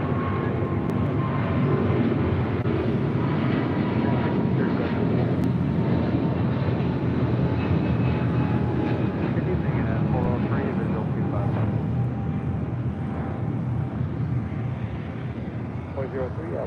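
An airliner lands on runway 25 left at LAX, a steady broad engine roar that stays loud throughout, with radio voices talking over it.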